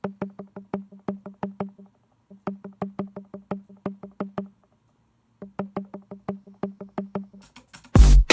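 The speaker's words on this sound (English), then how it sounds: "I've already got guitar plucks kind of playing." Quick plucked guitar notes in short repeating bursts, separated by brief pauses, played alone and fairly soft, ending with a sudden noisy click.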